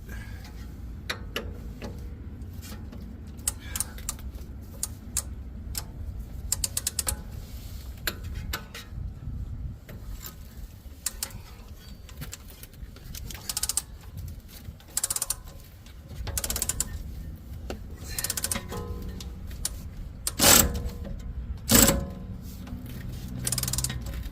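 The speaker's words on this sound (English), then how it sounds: "electric ratchet, get on one side, take our regular ratchet, get on the other side, and remove this bolt" Electric and hand ratchets work a bolt loose on the subframe of a 2011 BMW 528i F10 with a 3.0L engine: long runs of fast mechanical clicking and whirring, interrupted by pauses and clanks, close and without speech.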